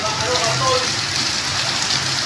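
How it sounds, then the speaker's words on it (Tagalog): Heavy monsoon downpour from the southwest habagat pours down in a dense, constant hiss of rain drumming on surfaces close by, steady and loud throughout with no pauses. "Grabe, lakas ng ulan, oh."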